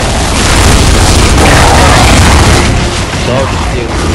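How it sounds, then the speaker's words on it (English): A grenade explodes in the video game Gears of War 2, a loud, dense boom with rumbling low-end blast noise filling the few seconds, heavy and close, and a voice can be heard underneath. "I'm going to be using grenade."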